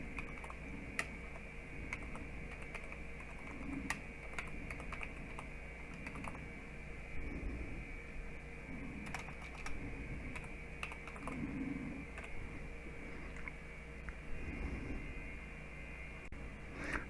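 Keys on a computer keyboard clack in quiet, irregular bursts of close typing over a faint steady hum, with no voices.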